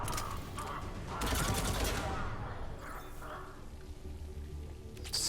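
Rapid bursts of automatic gunfire crackle in a Mass Effect 3 firefight, fairly loud and clustered in short volleys, with background combat noise between them.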